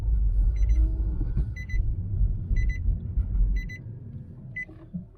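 A Nissan Note engine idles with a steady low rumble that stays close and loud, with repeated electronic beeps chiming over it at intervals.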